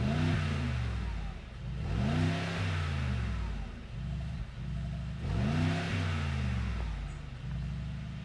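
A 2024 Mercedes G63 4x4 Squared exhaust revs hard twice, each blip rising and falling in pitch, close and loud over a rumbling idle between the revs.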